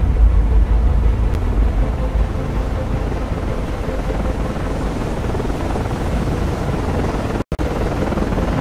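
An SH-60 helicopter flies at night in the naval game Cold Waters, a loud, steady rotor and engine drone that holds throughout with one abrupt momentary dropout near the end.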